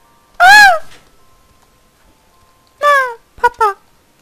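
A cat in the video game Fallout 3 meows loudly and near, one drawn-out meow followed after a pause by a short burst of two or three quicker meows.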